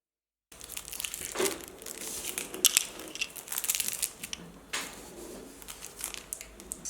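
Crinkly plastic sleeves rustle and tear as they are stripped one by one from a set of twelve eye makeup brushes, close and irregular bursts of crumpling with brief pauses between, no voices.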